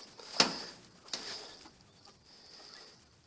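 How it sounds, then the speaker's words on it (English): Chickens near a hay field, giving a couple of sharp, brief squawks and clucks at moderate distance in a quiet outdoor setting, with faint movement sounds between calls. "Chickens running into the hay field."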